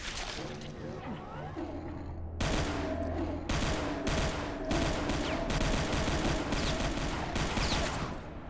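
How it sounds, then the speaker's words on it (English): Chain gun firing in Brutal DOOM 64, a loud sustained stream of rapid shots broken into several bursts, with growling monster noises and chaotic combat sounds underneath. "Oh, it's a different chain gun."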